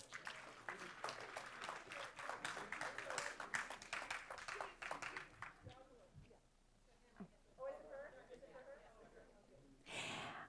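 A school board meeting audience applauds a student honoree, with a lively burst of many hands clapping for about five seconds that then fades into quieter room murmur and a few scattered claps.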